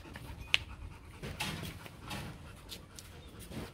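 A three-month-old Rottweiler puppy panting in quick, soft, steady breaths close by, with one sharp click early on.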